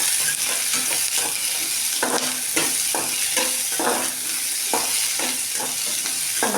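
Large onions sautéing in a pan for a jackfruit curry, a steady hot sizzle broken by repeated scraping stir strokes at an uneven rhythm, close and alone with no talking.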